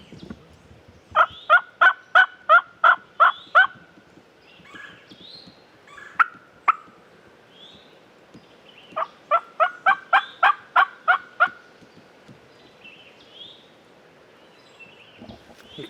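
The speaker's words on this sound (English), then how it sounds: "Might have some gobblers walking this way." Wild gobblers answer in two loud rattling bursts of rapid gobbling during spring turkey season, close by, with softer yelps and clucks scattered between the volleys and no talking.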